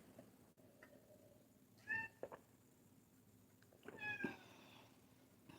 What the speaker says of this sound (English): a cat meowing at us